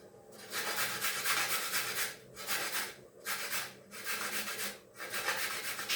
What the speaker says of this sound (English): So I'm going to grate them here.